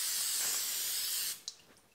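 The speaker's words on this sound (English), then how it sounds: "and I'm gonna spray my baking pan," Cooking spray hisses onto a baking pan in a steady close burst lasting over a second, then cuts off, followed by a faint tap.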